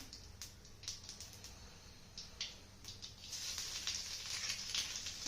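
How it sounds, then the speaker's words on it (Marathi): Phodni, a Marathi tempering of spices in hot oil, crackling with scattered pops that build into a denser, louder sizzle near the end, quiet and close, no voices. "फोडणी छान आलेली आहे"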